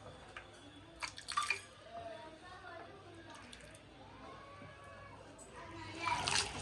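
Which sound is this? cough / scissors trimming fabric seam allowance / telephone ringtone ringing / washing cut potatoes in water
washing cut potatoes in water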